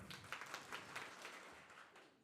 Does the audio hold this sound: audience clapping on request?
yes